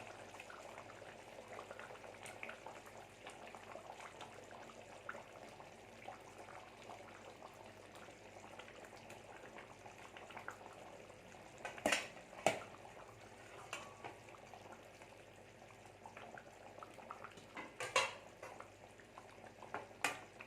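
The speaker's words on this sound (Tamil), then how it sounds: "இதுங்க கொஞ்சம் நேரம் மீன் வேகட்டும்" A pot of Thanjavur-style fish kuzhambu simmers quietly, giving a faint, steady bubbling with occasional soft pops and gurgles, alone without talk.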